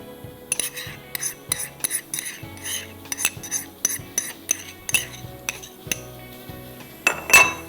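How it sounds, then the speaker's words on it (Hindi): Tomato puree and chili sauce are mixed together in a kitchen: a steady run of sharp spoon clinks and scrapes against a bowl, close and fairly quiet, without talk. "चिली सॉस और ये टोमेटो प्यूरी मिक्स कर दीजिए।"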